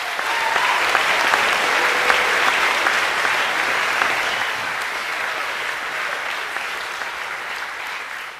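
Sustained, even applause from a full audience at a school's annual academic awards evening, a dense steady wash of many hands clapping at once that tapers slightly toward the end.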